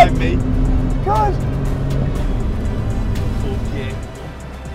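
A small Peugeot car accelerating in a drag race, its engine drone steady and close inside the cabin while someone shouts excitedly over it.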